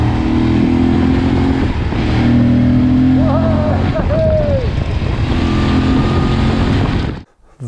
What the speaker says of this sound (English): That induction noise, my God, it's sublime.